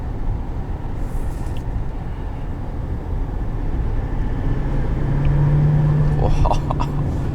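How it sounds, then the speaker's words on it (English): A 2020 GMC Sierra 3500HD Denali diesel pickup's exhaust brake engaging while driving, a loud steady low engine drone with a brief humming tone rising out of the road noise near the end. "There's the exhaust brake."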